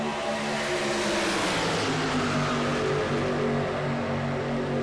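Race trucks in iRacing at Talladega roar down the back stretch in a tight three-wide pack, a steady, loud, droning engine blend with layered harmonic tones holding constant for several seconds, with no talking.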